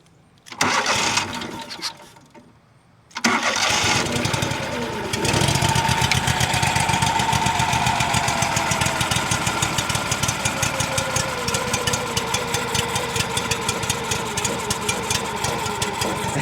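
A Kohler CH-25 small engine, freshly fitted with a repaired carburetor, cranks with a few brief bursts, pauses, then catches and settles into a steady, loud idle with an even throbbing rhythm to the end.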